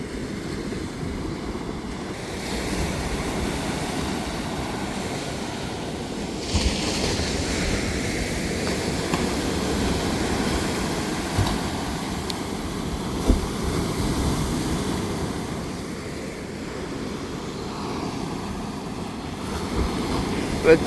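Sea waves rolling onto Thanni Beach in Kerala, a continuous surf roar with wind buffeting the microphone, swelling and easing over time, with a few louder crashes standing out.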